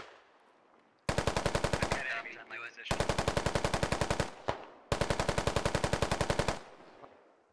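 Rifle fire in Squad comes as three long bursts of fast, evenly paced automatic shots, loud and close, separated by brief pauses with faint background noise between them.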